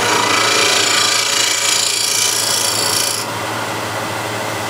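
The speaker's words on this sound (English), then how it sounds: "let the lathe come up to full speed. And using standard scrapers," A standard scraper cuts wood on a lathe spinning at full speed, giving a loud, continuous close rasping hiss over a low motor hum; the scraping eases off after about three seconds while the hum continues.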